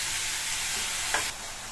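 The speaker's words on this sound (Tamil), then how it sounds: "இந்த காயை ஹை ஃப்ளேம்ல வச்சு 2 நிமிஷத்துக்கு நல்லா வதக்கி விட்டுக்கணும்." Ridge gourd sautéed in a pan on high flame, a constant loud hiss of sizzling with one brief stirring scrape partway through.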